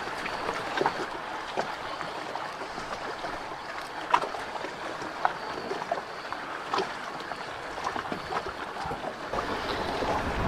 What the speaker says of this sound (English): The wind's coming straight at us.